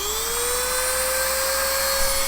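A PVC pipe being cut inside a bucket gives a continuous high, steady whine with a clear pitch that rises slightly at the start and then holds level throughout, close and loud, with no talking.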